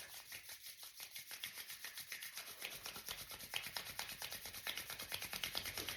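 Palms rub together in quick, soft back-and-forth strokes, a faint, close, even swishing rhythm with no talk.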